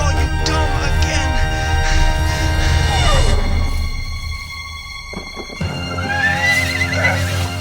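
A cartoon horse neighs and whinnies several times over a busy animated-show soundtrack of music and effects, with a brief pause before the sounds resume.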